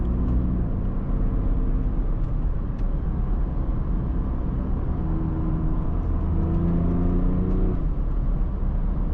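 A 2024 Range Rover Velar diesel SUV in dynamic mode accelerates hard, its engine a loud, steady rumble with rising tones heard from inside the cabin.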